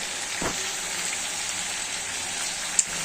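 Spice masala frying in hot oil for mutton biryani: a steady, even sizzle and crackle close by, with one brief knock midway and a sharp tick near the end.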